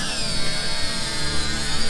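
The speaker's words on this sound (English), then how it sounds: "We'll go ahead and cut this out with the angle grinder." Angle grinder cutting through scrap steel, a loud, continuous, close high-pitched grinding whine with a rough, buzzing texture throughout.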